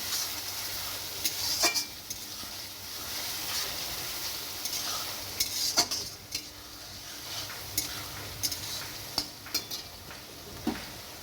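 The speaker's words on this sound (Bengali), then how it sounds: "আমি মশলা পেস্টটা ঢেলে দিচ্ছি ঢেলে নেওয়ার পরে এবার ভালো করে কষিয়ে নেওয়ার ফলে" Spice paste sizzling in a hot pan on a village kitchen fire, with a steady hiss of frying and periodic sharp scrapes and taps of the stirring spoon, close by and without speech.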